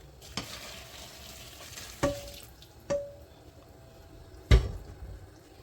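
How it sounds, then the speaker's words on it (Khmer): Cauliflower and broccoli dropped into a pot of boiling water for blanching, giving a few separate splashy plops and a brief sizzle against a low bubbling hiss, close by with no voices. "ឡូវនេះទឹករបស់យើងពុះហើយខ្ញុំចាប់ផ្ដើមធ្វើការចាក់ សោះបន្លែរបស់យើងណា"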